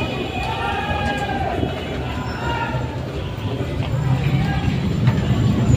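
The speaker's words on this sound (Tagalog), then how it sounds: "Nabiyahin na ulit yung tren." A train runs through a station in Baclaran, a dense rumble and rattle of railcars heard close, building slightly toward the end, with crowd noise and people talking nearby.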